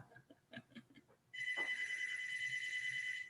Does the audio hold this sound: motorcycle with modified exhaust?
no